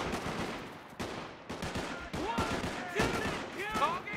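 Bursts of video game gunfire from Company of Heroes, set on a 1918 Great War battlefield, with sharp shots and rattling volleys scattered across the moment alongside other battle noise.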